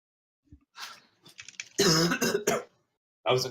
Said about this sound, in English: That cough was in character.